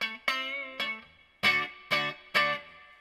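Electric guitar through a Peavey amp with cabinet resonance on loose, six distorted chords struck at uneven intervals, each sustaining and fading with a fuller low end, close and alone.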